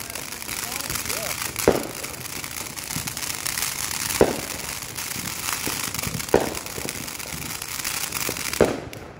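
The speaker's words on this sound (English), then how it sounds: "I'm going to be lighting the next firework, guys." Fourth of July fireworks go off in four sharp, moderately loud bangs spaced a couple of seconds apart over a steady crackling, hissing backdrop, with a voice briefly audible.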